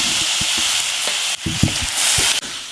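Chopped tomato and onions fry in a pan with a constant bright sizzle, punctuated by a series of soft knocks and scrapes as the mixture is stirred.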